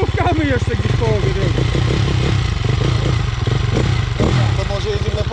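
A KTM motorcycle engine runs loud and steady at close range, its rough, pulsing idle continuing throughout while voices talk over it.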